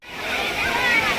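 Kempty Waterfall in Mussoorie, Uttarakhand, where water pours straight down from the mountain in a loud, continuous rushing roar that fades in and then holds steady.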